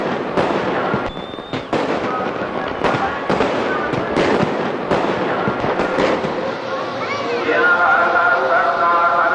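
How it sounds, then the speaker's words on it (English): Holiday fireworks at the Golden Temple crackle and pop in a dense, irregular barrage of sharp bangs, loud and fairly close, with voices and crowd noise mixed in. "the sound of holiday fireworks at the Golden Temple"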